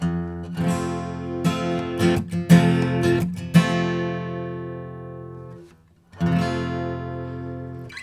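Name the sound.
guitar strumming F barre chord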